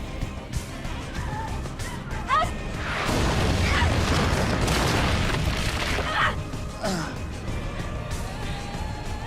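A loud, drawn-out blast from the anime Rurouni Kenshin rumbles for several seconds amid clattering debris and shouting voices, then fades into a busy, noisy background.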